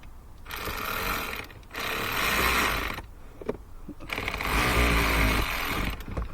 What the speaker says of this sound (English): if you have an electric ratchet, you can run them down